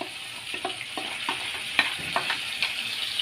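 Liver frying in a pan with browned onion, ground ginger and cumin paste, a continuous sizzle under a steady series of spoon scrapes and clicks as the mixture is stirred.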